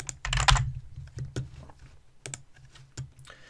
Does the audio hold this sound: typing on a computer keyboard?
yes